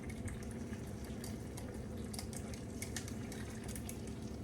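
Four eggs frying together in a pan for a Simpsons-style breakfast, giving a steady, quiet sizzle and bubbling crackle that runs evenly throughout with no talking.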